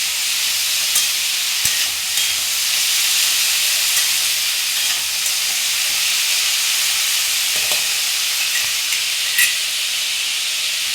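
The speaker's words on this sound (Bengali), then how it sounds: "এই যে এবারে এই পোস্ততে আমি জল দিয়ে দিচ্ছি, এবারটা তখন সেদ্ধ হোক।" Water added to frying poppy seeds in a pan, a loud steady hiss and sizzle close up, with occasional small knocks and stirring sounds.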